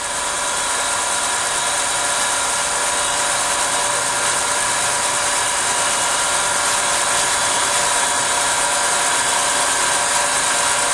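Mechanical and diffusion vacuum pumps run steadily while evacuating a homemade Fleming diode vacuum tube, a dense continuous whirring hum with a fine rattling, ratchet-like texture, loud and unchanging throughout with no talk.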